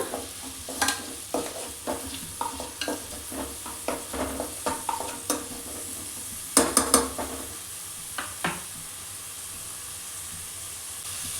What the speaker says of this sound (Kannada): ನಾವೇನು ಕಟ್ ಮಾಡಿ ಇಟ್ಕೊಂಡಿದ್ವಲ್ಲ ಈರುಳ್ಳಿ ಅದನ್ನು ಸೇರಿಸ್ಕೊತಾ ಇದ್ದೀನಿ ಇವಾಗ ನೀಟಾಗಿ ಫ್ರೈ ಮಾಡ್ಕೊಳ್ಳೋಣ